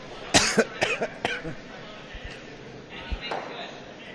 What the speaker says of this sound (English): I don't think that was a bacterial-related cough.